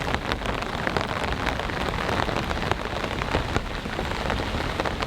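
Heavy hurricane rain from Debby pours steadily onto an off-grid cabin, a loud dense wash of drops with sharper patters and taps on nearby surfaces throughout, and no voices.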